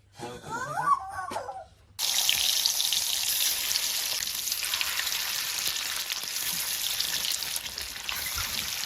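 Fish frying in hot oil in a pan, a steady close crackling sizzle that starts abruptly and continues unbroken, with a brief muffled voice at the very start before it.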